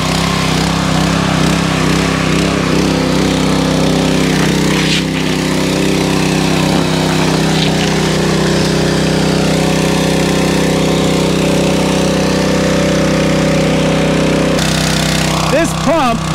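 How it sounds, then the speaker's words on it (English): Small Harbor Freight gasoline water pump engine running steadily outdoors in a woodyard, a loud continuous mid-pitched droning hum close by, with a brief change near the end. "So I'm gonna get this little Harbor Freight pump started, and we'll see how she does."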